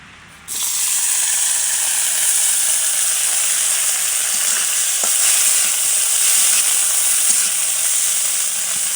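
Ingredients for a winter mash of bottle gourd flowers, bean flowers and flat beans hit hot soybean oil with a sudden loud burst, then settle into a continuous close, hissing sizzle.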